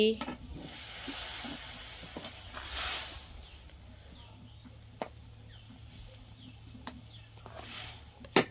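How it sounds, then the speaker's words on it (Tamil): Steady bubbling and sizzling from a pan of boiling prawn curry, with occasional sharp clinks and a few louder surges of hiss, heard up close. "இது வந்து நல்லா கொதிக்குது"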